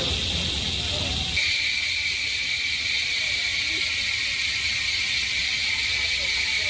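A bicycle rear hub with handmade springs freewheels with a loud, steady high buzzing whir that holds without pause, growing sharper after the first second.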